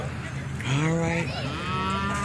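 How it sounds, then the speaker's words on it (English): Cattle on a ranch give a long, close, loud moo that rises and falls, with another lowing following, over outdoor background noise. "make the cows come back."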